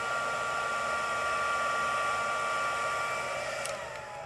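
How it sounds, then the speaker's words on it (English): Heat embossing tool blowing hot air for embossing, a steady loud whirring rush of air with a constant motor whine that holds throughout and dips slightly near the end. "When you turn the heat tool on for the first time, it takes a little bit of time to heat up, but once it does, it really does a quick job of embossing."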